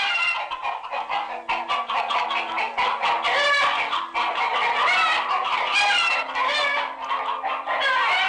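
Several chickens clucking and squawking close by in a busy, overlapping chorus, with a steady low hum running underneath.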